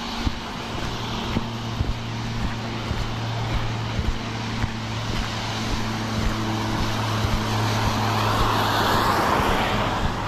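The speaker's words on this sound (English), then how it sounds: "I hear an airplane overhead." A propeller airplane drones overhead during a walk on a stormy day, a steady low engine hum that swells slightly toward the end over outdoor traffic-like background noise.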